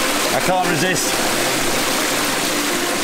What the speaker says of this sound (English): you enjoy the sound of flowing fresh water